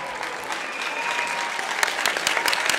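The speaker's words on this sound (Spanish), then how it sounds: "Les recibimos con un fuerte aplauso a todos los participantes." A crowd applauds participants entering at a Saya Caporal dance contest awards announcement, a steady wash of many hands clapping at moderate distance that grows slightly denser toward the end.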